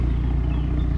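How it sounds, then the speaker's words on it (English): A car engine's intake, heard as a loud, steady low rumble and growl held for about a second with no talk over it. "You can hear that intake."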